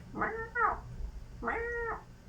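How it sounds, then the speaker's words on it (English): A cat gives two clear, separate meows about a second apart, each a rising-then-falling tonal cry heard at moderate volume against a quiet room. "And she's playing with the cat now."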